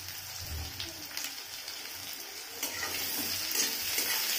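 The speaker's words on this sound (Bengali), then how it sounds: "পেঁয়াজটা ভাজা হচ্ছে, এখন আমি এতে আলু দিয়ে দেব।" Onions sizzle steadily in a hot pan on a gas flame as potatoes go in for a vegetarian spinach dish, a continuous close frying hiss with occasional stirring scrapes and brief bursts.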